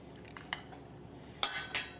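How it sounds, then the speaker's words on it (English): Spoon scraping an avocado against the bottom of a bowl, with a few faint scrapes followed by two sharp, close scooping clinks near the end. "I'm going to go ahead and pull this avocado out by tracing the bottom of the bowl."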